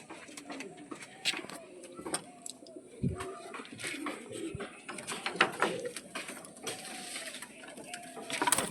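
Fancy heavy-booted lakkha pigeons cooing in a loft, repeated soft low coos close by among wing flutters and scattered clicks and taps, with occasional talking in the background.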